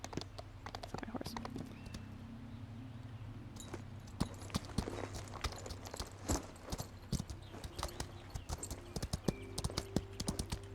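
Hooves clip-clop steadily in the video game Equinox Homecoming, a walking horse's rhythmic beats sounding close and clear over a continuous low ambient hum, growing busier and more irregular toward the end.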